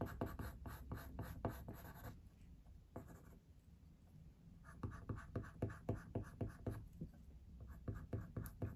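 Coloured pencil shading fur on paper for a spaniel drawing, rapid rhythmic scratchy strokes close to the mic, pausing briefly twice before resuming in quick bursts.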